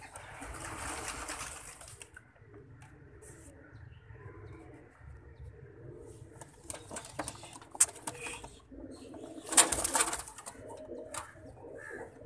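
A breeder pair of pigeons coos softly, low and faint, amid quiet background noise with a few brief louder rustles.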